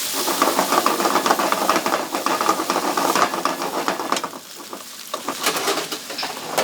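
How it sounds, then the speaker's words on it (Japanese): Minced anchovies hit a hot pan for a spaghetti with fava beans and pork fillet, setting off a loud, continuous sizzle and hiss that fades a little toward the end, with occasional stirring. "味の、アクセントとしてアンチョビのみじん切りを入れます。"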